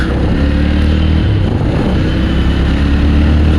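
A Jawa 42 Ivory Edition motorcycle pulls away and rides on, its engine giving a loud, steady low rumble with slight rises in pitch as it moves, close-up and continuous, with no voices over it.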